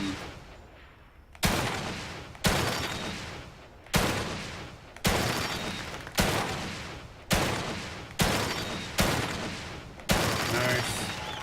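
Repeated gunfire in The Evil Within 2, eight loud single shots spaced about a second apart, each a sharp blast with a decaying tail, someone talking faintly beneath.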